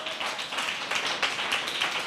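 Church congregation clapping hands during a Sunday service sermon, a steady dense patter of many hands filling the room at moderate level.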